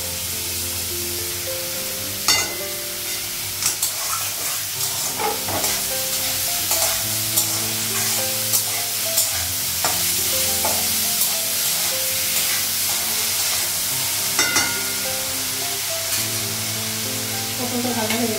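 Pointed gourd (potol) fries in a pan with a continuous close sizzle and hiss, punctuated by frequent sharp clicks and scrapes of a spatula stirring against the metal.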